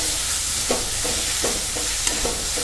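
Onion, green chili, garlic and ginger frying on a medium flame for stuffed karela, a steady close sizzle broken by a few sharp spoon taps and stirring scrapes, with no voices.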